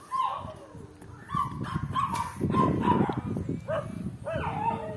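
Several dogs at a dog shelter barking and yipping in repeated short bursts, fairly close and loud, with whimpering mixed in and a person talking underneath.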